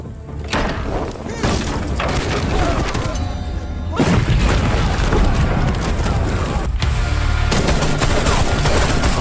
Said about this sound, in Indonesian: tak satu pun peluru meleset yang ditembakkan oleh Kim dan Kapten Lin